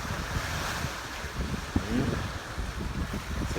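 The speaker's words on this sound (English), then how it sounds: "We got the waves crashing here." Waves break on a lake shore under steady wind buffeting the microphone, a continuous close wash of surf with a brief splash near the middle and no voices.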